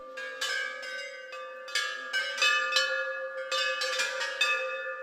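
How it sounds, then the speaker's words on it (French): A temple bell in Mauritius rings in a quick, uneven series of bright metallic strikes, each ringing tone overlapping the last and hanging in the air, fairly close and clear, with no talking. "la cloche qui peut résonner dans mon temple"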